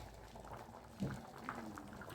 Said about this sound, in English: our black beans have been bubbling away for 15 minutes